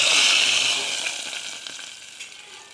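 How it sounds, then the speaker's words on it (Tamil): Spices for a sambar tempering crackle and sizzle in hot oil, a bright hiss that is loud at first and slowly fades down. "நல்லா பொரிஞ்சிடுச்சு. இப்போ சாம்பாரில் எடுத்து ஊற்றிக்கலாம்."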